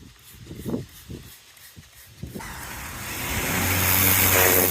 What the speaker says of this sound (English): Got our new 2000 PSI Greenworks pressure washer from Lowe's.